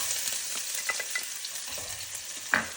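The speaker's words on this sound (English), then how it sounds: "add the teaspoon of mustard seeds. And you're going to hear them popping" Mustard seeds pop and sizzle in hot oil in a pan for a homemade chicken curry, giving a constant faint hiss broken by scattered small crackling pops, with no voices.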